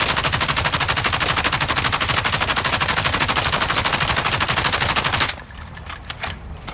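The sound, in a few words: Kilo assault rifle firing full magazine, from video game Modern Warfare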